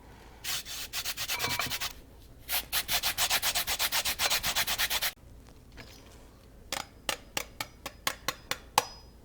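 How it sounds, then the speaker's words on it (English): A handheld zester rasps across a lemon peel in quick, rhythmic bursts of close scraping strokes, with a brief pause, then a sparser run of sharp individual scrapes. "So got a little zester here to collect the lemon zest."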